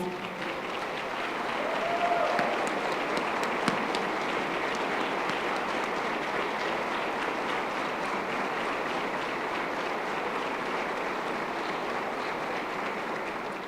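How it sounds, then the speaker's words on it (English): A breakfast crowd at a breast cancer fundraising event applauds survivors standing in the room, a steady, dense roar of clapping that holds at an even level throughout. "help me give them a round of applause"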